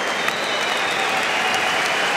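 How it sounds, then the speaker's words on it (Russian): A crowd at a boxing match applauds both boxers after the bout, a dense, continuous wash of clapping heard from a distance with no breaks. "Мы слышим, оба как аплодируют сейчас обоим бойцам за этот бой."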